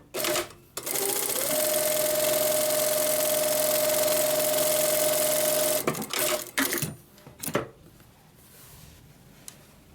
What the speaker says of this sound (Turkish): şimdi makinemize hiç ayar yapmadan ayağımıza hiç ayar yapmadan normal bir çıma dikişi yapıyorum